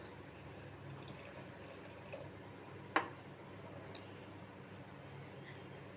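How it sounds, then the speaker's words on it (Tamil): Tamarind water is poured into a pot of bitter gourd curry with cooked peanuts and lentils, giving a soft, quiet liquid trickle with one brief splash partway through. "இப்போ புளி தண்ணி விட்டுக்கலாம்."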